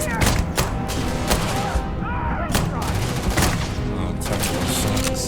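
Gunfire in the sci-fi video game Starfield: dense, overlapping shots and thuds crackle continuously over a busy game soundscape for the whole stretch, fairly loud and close.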